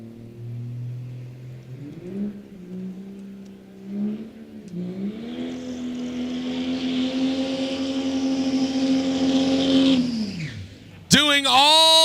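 Diesel-powered square-body pickup truck doing a burnout at a drag racing event, engine holding a loud sustained roar for several seconds before cutting off, then another sharp rev rises at the end, with commentary talking over it.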